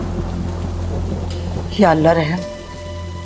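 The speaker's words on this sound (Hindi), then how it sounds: "बाहर तो बहुत तेज बारिश हो रही है। जी, और बिजली भी बहुत कड़क रही है।" Heavy rain hisses steadily throughout as a constant background wash, while a person speaks briefly over it in the middle.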